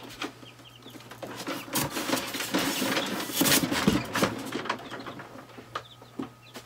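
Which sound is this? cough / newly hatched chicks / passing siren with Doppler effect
newly hatched chicks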